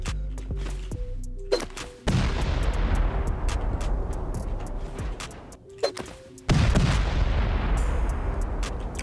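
C4 explosives blowing up base walls in the game Rust, two huge booming blasts with long rumbling decays, preceded by scattered sharp clicks and thuds.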